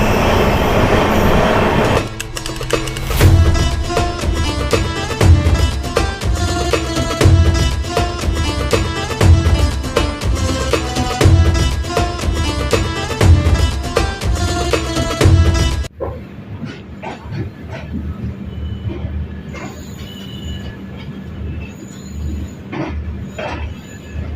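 A passenger train on the Kolkata to Indore run rumbles loudly with rhythmic wheel clatter and squeals, then the noise drops sharply to a quieter, softer rolling background near the end.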